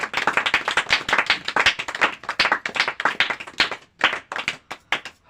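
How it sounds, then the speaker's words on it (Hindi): A church congregation at a group prayer service claps loudly and continuously in praise, dense rapid applause filling the space with no pauses apart from a brief dip near the end. "जोर से ताली बजाकर तारीफ करेंगे यीशु मसीह की।"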